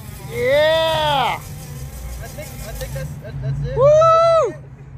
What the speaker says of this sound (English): we got the biggest burnout about to happen here